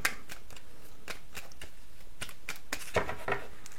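Tarot cards being shuffled for a reading, with a close, steady run of soft riffling flicks and light taps, no voices.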